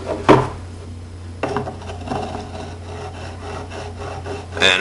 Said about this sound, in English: polishing that striker up to a mirror finish